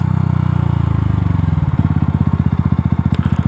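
A motorcycle rides through the night, engine droning loudly up close, then shifting into a clear, rapidly pulsing beat as it changes pace, with no one speaking.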